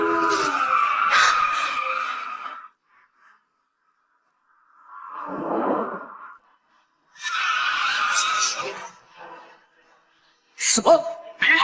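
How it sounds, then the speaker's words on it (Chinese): A race car skids and squeals its tires through a corner while overtaking in a racing drama, with loud screeching bursts broken by short gaps and a voice heard between them. "只要陈杰选手出了这个弯，迎接他的将是胜利的高歌"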